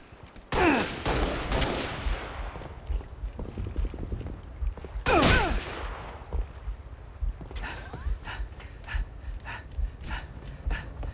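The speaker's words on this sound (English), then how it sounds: "Shooting me with a pistol makes me spin around and I die." Gunfire from a pistol in the video game Halo Reach, with two loud sharp bursts of shots about five seconds apart over a busy background of game effects and rustling.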